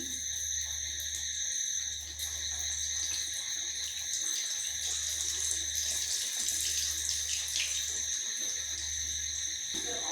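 Singara deep frying in hot oil, a dense steady bubbling hiss that stays loud and close throughout with a low hum beneath it and no talking.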